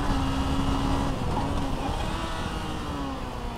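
A Suzuki V-Strom 250 motorcycle engine revving as it climbs through the rev range while riding, a steady rising drone heard from the rider's position with wind noise, no talk.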